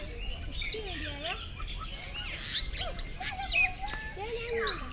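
Birds sing and chirp in an aviary at a bird park housing species from western Indonesia, with varied whistles and tweets overlapping close by over a low hum, while people talk faintly in the background.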